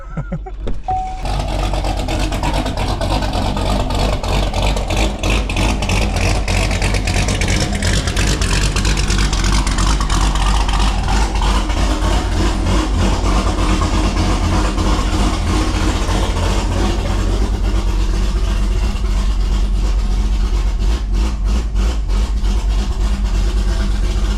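A loud Corvette Z06 with a big cam fires up for its first start and settles into a heavy, choppy, lumpy idle, very close and continuous for the whole stretch.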